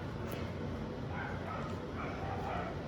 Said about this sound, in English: Now all the dogs are barking